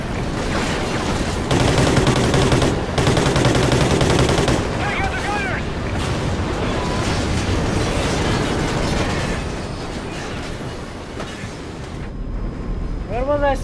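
Call of Duty Ghosts battle with sustained, loud machine gun bursts and rattling gunfire rolling on for many seconds, tapering toward the end, with shouted voices mixed in.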